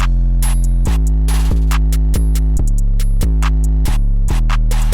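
A pluggnb beat's full drum pattern plays alone, booming 808 bass hits landing in a steady syncopated rhythm with crisp hi-hats and snares ticking over the top, loud and close.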